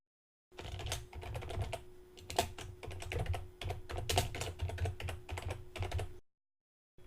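Rapid typing on a computer keyboard with a dense run of close, crisp key clicks and a few heavier strokes, continuing for several seconds before stopping, with no voices.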